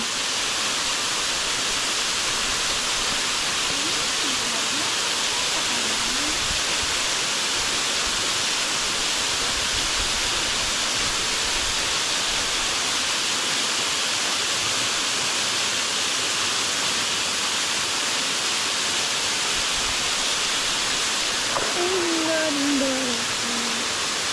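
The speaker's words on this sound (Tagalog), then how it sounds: "Ang ganda ng falls." A waterfall roars continuously, a dense, steady hiss of falling water that fills the whole scene at an even, loud level, with a brief faint voice near the end.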